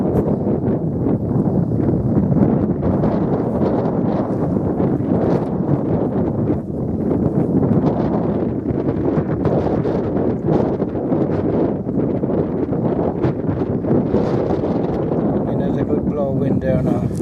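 Strong wind gusts buffet the microphone in a constant, roaring rush, with people talking close by under the noise.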